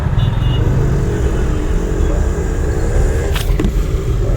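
A car pulls ahead with its engine revving up during a driving lesson, a steady loud rumble of motor and road noise filling the cabin throughout.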